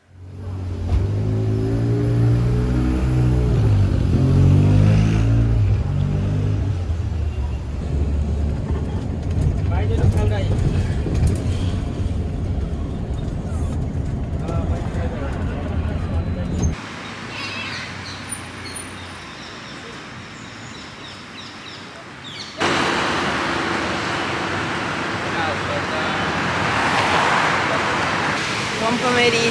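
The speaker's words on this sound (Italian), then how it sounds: "sto costeggiando la via Nomentana, perciò è molto trafficata." Busy traffic along Via Nomentana in Rome, a continuous nearby roar of passing cars with engines revving, heard throughout at moderate level while a person talks over parts of it.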